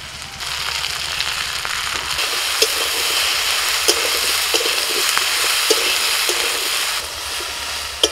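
Eggplant slid into a hot frying pan in a home kitchen, giving a steady, loud broadband sizzle of oil that runs the whole time, with a few small pops and clicks scattered through it.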